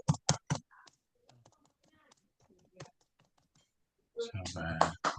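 Typing on a computer keyboard in a typing game: quick clusters of sharp key clicks at the start and end, with sparse taps and soft talk in between.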